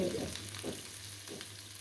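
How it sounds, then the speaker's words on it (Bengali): Onions frying in oil in a frying pan give a steady close sizzle with a few soft scraping stirs, no voices. "এখন দিয়ে দিচ্ছি পেঁয়াজ"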